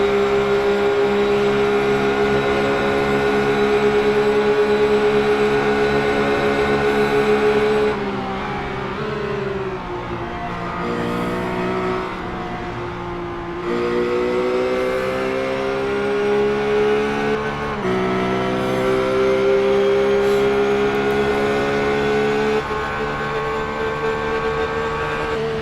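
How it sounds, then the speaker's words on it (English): A race car engine sits on its rev limiter, a loud, sustained high-pitched buzz holding steady with brief dips and surges, close and continuous with no talk. "We're hitting right on the rev limiter"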